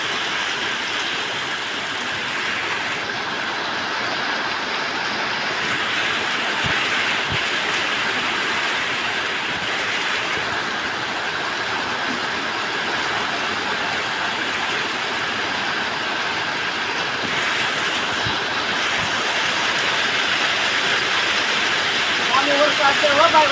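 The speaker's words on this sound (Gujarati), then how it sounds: "વરસાદ છે હો ભાઈ, વરસાદનો તો અવાજ આવે છે" Heavy rain pours steadily in a village, a loud, constant wash of hiss that runs unbroken throughout, with faint voices in the background.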